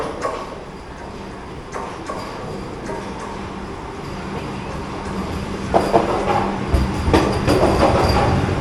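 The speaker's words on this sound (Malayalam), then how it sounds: "അപ്പോൾ അങ്ങനെ നമുക്ക് പോകേണ്ട വണ്ടി വന്നു." The Ernakulam–Bengaluru Vande Bharat Express pulling into a station platform, a low rumble and rhythmic wheel clatter building louder toward the end, with faint background station noise.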